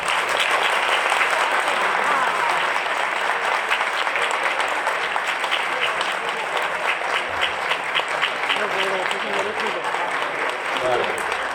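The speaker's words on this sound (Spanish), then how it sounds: "Y ahora va a subir y le vamos a dar un aplauso" An audience in a university auditorium claps for a film director and guests at a preview screening, sustained loud applause throughout with some crowd voices mixed in.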